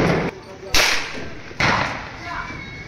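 A 30-shot Diwali firecracker box launches its crackers, each going off with a sharp crack and two loud bursts about a second apart, followed by a fading hiss and rumble.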